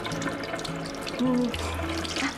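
Water running from a tap, a steady splashing flow sitting under background game music and tones, fairly loud and continuous throughout.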